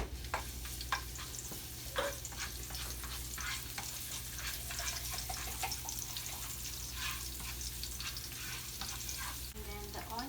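Garlic sautéing in a pan, a continuous close sizzle broken by frequent quick scrapes and clicks of stirring, with a low steady hum beneath and a short splashy burst near the end; no one speaks.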